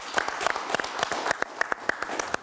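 Audience applause for a child named Maxence called up to join a presenter, scattered individual claps standing out over a steady wash of hand-clapping at moderate distance, no talk over it.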